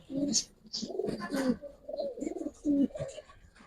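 Soft, repeated cooing of a pigeon in short throaty phrases, close by, with faint chirps in between.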